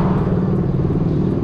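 A motorcycle on a road in Japan, heard as a steady, loud engine rumble that holds close and even throughout with no break.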